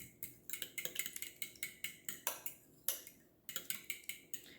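A fork whisks pancake batter in a bowl, making a quick, steady run of light clinks against the sides, close and fairly quiet, with one short pause partway through.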